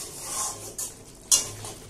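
Spice masala stirred in a pan with oil for a Bengali chicken curry, with a few light scrapes and brief clinks of a spoon against the pan over a faint sizzle.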